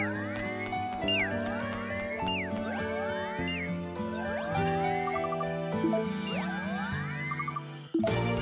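Cats meow repeatedly in the Yo-Kai Watch video game, a string of loud, clear, rising and falling mews with light jingly game tones between them and no talking.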